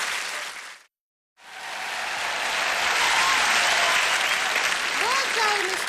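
A studio comedy audience bursts into loud, dense applause mixed with cheering after a brief silent gap, the clapping continuing steadily and close at full strength to the end.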